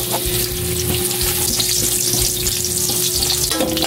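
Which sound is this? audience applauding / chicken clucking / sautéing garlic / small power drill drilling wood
sautéing garlic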